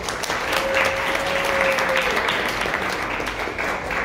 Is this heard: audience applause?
yes